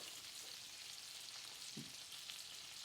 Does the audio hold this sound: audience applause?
no